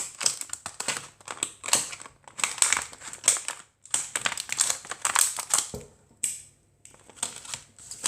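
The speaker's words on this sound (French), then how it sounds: "moi je propose déjà qu'on commence par ouvrir les blisters" Plastic Pokémon card blister packs being torn open by hand, with a continuous run of close, crisp crinkling and crackling plastic in irregular bursts, briefly quieter near the end.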